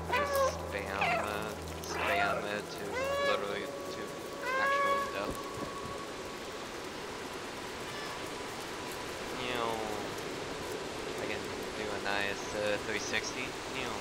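Repeated cat meows from the video game Stray, several in quick bursts, sound over a talking voice and background noise, with more meows scattered later.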